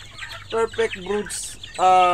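A hen clucks close by in short, repeated bursts, ending with a longer, louder cackle.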